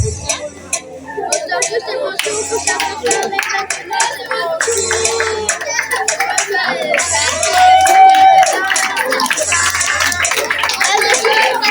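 Rhythmic hand clapping, called maboko, rings out from a crowd at a school awards ceremony, sharp claps in quick repeated bursts with chatter, voices and children's calls mixed in, fairly near and loud.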